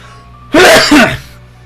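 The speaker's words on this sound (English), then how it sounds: "I sneezed" A single loud, explosive human sneeze, close and forceful with a doubled burst, over a low steady background hum.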